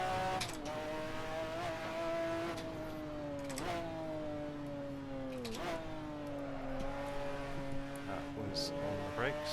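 McLaren F1 GTR race car in Assetto Corsa on the Nordschleife, its engine droning at a steady pitch with brief dips and rises as it shifts and brakes, a continuous whine throughout.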